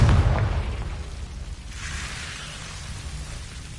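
Confringo spell blast in Hogwarts Legacy, a loud close burst at the start that decays into a lingering crackling, rain-like hiss, with no talk.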